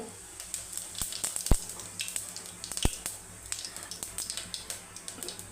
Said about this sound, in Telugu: ఆయిల్ బాగా హీట్ కావాలి. కొంచెం సోంపు